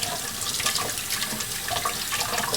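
Tap water runs steadily into a kitchen sink while food is rinsed under it, a continuous close splashing hiss with small shifting drips and no talk.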